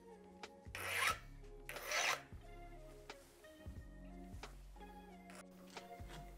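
A round hand file swipes the raker depth gauges of a chainsaw chain, two loud rasping strokes close up, followed by quieter filing and light metallic handling.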